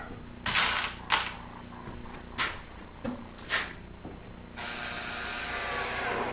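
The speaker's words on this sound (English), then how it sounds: "Now we're going to install the first 2 screws into the false beams." Screws driven into false beams of a wooden dollhouse, several short bursts of a power driver with clicks and handling knocks between them, then a longer steady whir at the end, close and fairly quiet.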